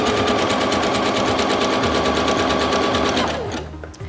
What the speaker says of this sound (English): My machine is sewing at its lowest speed right now